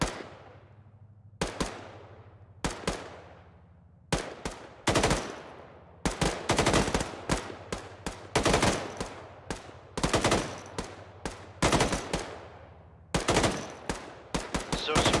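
Arma 3 video-game gunfire during a support-by-fire drill: repeated loud bursts of automatic weapon fire with sharp single shots, gaps early on, then dense sustained volleys that pause briefly and resume with long reverberant tails.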